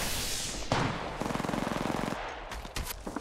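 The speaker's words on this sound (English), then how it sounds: "They're shooting at me." A rapid burst of automatic gunfire in Apex Legends rattles close and loud for about a second, followed by a few scattered sharper shots and impacts, with no speech.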